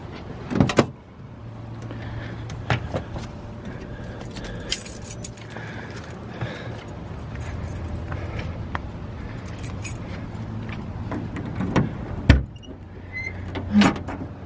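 Trunk of a 1971 Ford Mustang convertible with a Cleveland 351C engine being handled, with metallic clicks, a latch clunk and scattered knocks and rattles over a low background rumble, ending with a sharp thump near the end.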